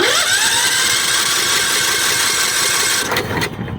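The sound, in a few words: John Deere L110 lawn tractor engine cranking over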